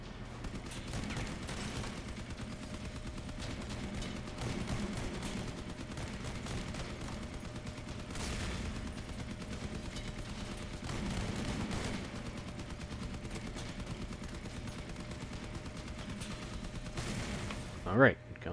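Shotguns fire in the vehicle combat game Crossout: a continuous, fairly faint barrage of overlapping shots and blasts rumbles throughout, with one sharper burst near the end.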